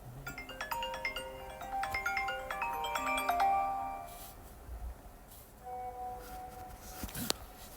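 A mobile phone ringtone for an incoming call plays a bright, rapid melody of chiming notes for about four seconds, then a few quieter tones follow, with no talking.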